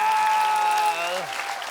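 Studio audience applause on an Indonesian TV comedy game show bursts out loud and dense, with a sustained musical tone riding over it before it dips slightly near the end.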